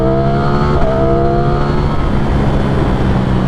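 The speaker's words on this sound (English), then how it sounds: "just the rumble that the engine has and the sound that you get" A 2023 Ducati Streetfighter V4 motorcycle rumbles loud and close, its engine holding a steady throaty drone with harmonic whine under a constant roar of wind and road noise.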